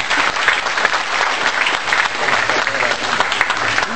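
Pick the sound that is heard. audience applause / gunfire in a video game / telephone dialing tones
audience applause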